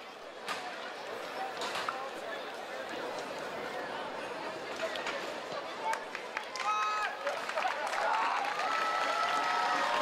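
A crowd at an open Olympique Lyonnais football training session claps steadily throughout, a dense continuous patter of applause with cheering and chatter mixed in, under a commentator's voice.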